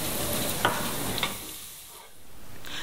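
Pancetta and onion frying in a pan, a steady loud sizzle with a couple of brief stirring scrapes, fading slightly near the end, with no voices.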